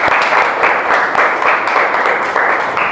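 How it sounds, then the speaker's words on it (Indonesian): Audience applause at a classroom teaching session, a dense, steady clapping from a crowd that stays loud and even throughout without talk over it. "Oke, beri aplaus."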